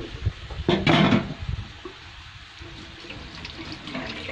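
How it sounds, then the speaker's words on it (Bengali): A splash of water is poured into a desi chicken curry while it cooks. The pour is short, close and fairly loud near the start, followed by soft sizzling. "এখানে সামান্য পানি অ্যাড করি,"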